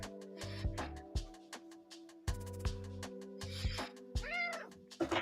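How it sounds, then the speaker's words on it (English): A cat meows repeatedly up close, a string of short, varied calls and chirps with small pauses between them, heard indoors over quiet room tone. "let me get this cat out of the way"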